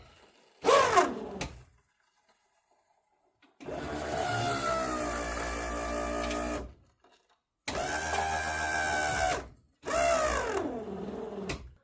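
A hydraulic pump for the convertible top on a 1971 Mercury Cougar whirs in several separate bursts, each lasting a few seconds with silent gaps between them, moderately loud and close, with no voices.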